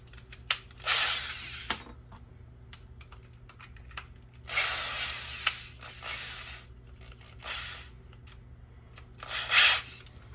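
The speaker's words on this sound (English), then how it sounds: "I will use this step bit, probably the easiest way to drill it out." A step drill bit bores a hole in a furnace duct in short, rasping bursts separated by quiet gaps. The sound is close and moderately loud, with no talking.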